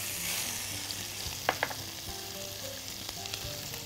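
Garlic cloves frying in butter in a pan, a faint steady sizzle with a couple of soft clicks, quiet and close.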